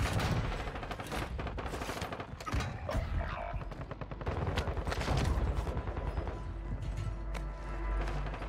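Rapid bursts of Grau 5.56 rifle fire in a video game ring out loud and close, volleys running almost without pause across the whole stretch, with mechanical clicks mixed in.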